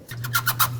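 Short squeaky, rubbery creaks come in quick succession as a radiator hose on a Honda Fit is twisted and worked loose, over a low steady hum.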